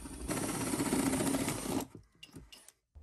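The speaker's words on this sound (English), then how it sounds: "Next was just drilling a hole for the latch." A drill boring a hole for a latch inside a skoolie storage build, a steady close whir that runs for a moment and then stops, followed by faint handling clicks.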